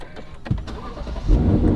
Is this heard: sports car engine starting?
yes